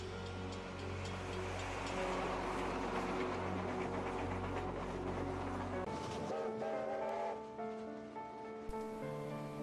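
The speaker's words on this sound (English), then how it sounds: "The New South Wales XPT has a maximum speed of around 300 kilometres an hour" A New South Wales XPT passenger train rumbles past with a steady low diesel drone and layered tonal hum, easing off toward the end as the engine note changes and a brief clunk sounds.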